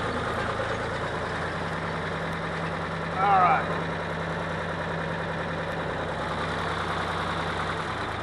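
Steady low rumble of a tractor engine idling close by, with someone speaking briefly over it.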